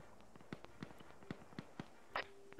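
Faint, scattered sharp pops at irregular intervals over a low hum, like distant gunshots in the video game Arma 3, with a brief louder burst near the end.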